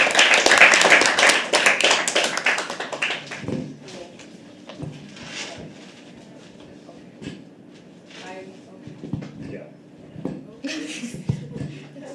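A poetry open mic audience at The Habitat claps in a loud, dense burst for about three seconds. The clapping then fades, and talking and scattered small noises fill the room.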